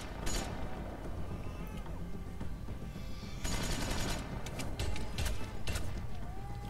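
AK rifle fire in The Walking Dead video game: bursts of gunshots against a loud, constant noisy background, with a cluster of shots near the start and another sustained volley midway.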